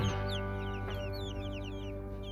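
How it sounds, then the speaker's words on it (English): About twenty meat chickens (broilers) cluck and chirp softly inside a chicken tractor coop, set over a steady, droning mechanical hum. "So I'm in here with our latest batch of broilers."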